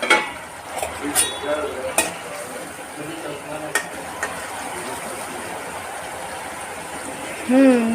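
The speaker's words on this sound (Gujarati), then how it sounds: "અને હવે થોડુંક હલાવી અને ઢાંકી દઈશ" Potatoes for poha sizzle in a pan while being stirred, with scraping clinks of the spoon early on and a steady frying hiss under a woman's speech.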